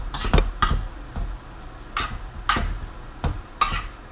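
Cooked lo mein noodles being stirred and tossed in a pan, about seven separate clattering scrapes and knocks of utensil against metal at uneven intervals, close and clear with no talking.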